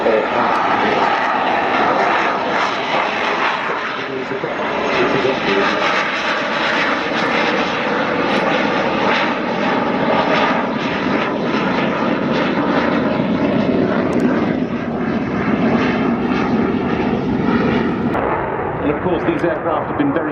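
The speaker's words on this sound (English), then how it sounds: "The aircraft decelerating to about 120 knots, which is about 140 miles per hour, and a height of 400 feet." A loud, continuous jet engine roar from a military jet decelerating to about 120 knots at 400 feet at the Royal International Air Tattoo, steady and powerful with crackling rumble, and a voice talks faintly under it.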